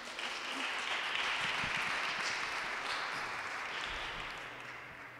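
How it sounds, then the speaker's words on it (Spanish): Applause from a conference audience in a hall, a steady broad wash of many hands clapping that holds for about five seconds and slowly fades near the end. "Un aplauso, por favor."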